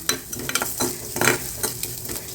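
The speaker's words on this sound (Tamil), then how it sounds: "லைட்டாக வதக்குங்க" A spatula stirs and scrapes ingredients being lightly sautéed for rasam in a sizzling pan, several quick scraping strokes over a constant frying hiss.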